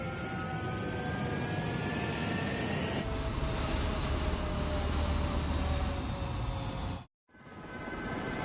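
Military jet from Ace Combat 7 taking off on a runway, a loud continuous engine roar with rising whine that builds and swells, broken by a brief silent cut near the end before the roar resumes.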